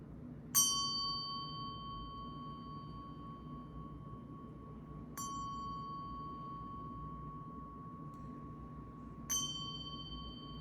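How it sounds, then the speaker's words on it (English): A Nepalese ghanti, a small hand bell, is struck three times at spaced intervals. Each strike gives a clear, pure ring that decays slowly in a quiet room, with the second strike softer than the others. "I'm going to ring the bell. It's not going to, I don't think it will be loud."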